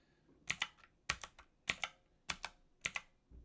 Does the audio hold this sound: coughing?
no